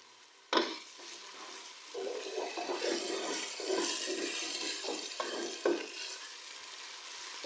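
Ginger garlic paste fries with browned onions in a pot, a hissing sizzle broken by a few sharp clinks and scraping stirs, close up with no voices.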